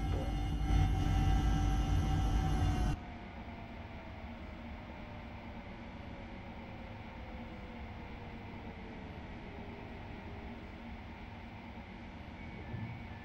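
An ICNG intercity train rolls into its end station, a loud rumbling interior roar that suddenly drops to a steadier, quieter rolling hum with a faint whining tone as it slows.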